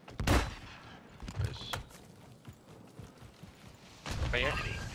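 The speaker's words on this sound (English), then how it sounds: "Why are they all shooting us?" Enemy gunfire crackles in a video game firefight, with loud sharp shots at the start, scattered cracks in the middle and a heavier burst near the end, while a voice talks over it.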